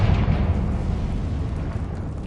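The Confringo blasting spell in Hogwarts Legacy sets off an explosion, a deep rumbling roar that is loudest at the start and slowly fades over a couple of seconds.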